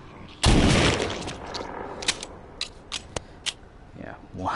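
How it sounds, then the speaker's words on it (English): A one-handed shotgun fired in The Walking Dead: Saints and Sinners VR game, one loud close blast followed by several quieter sharp clicks and reload noises, with a voice faintly heard near the end. "one-handed shotgun is not the way to go"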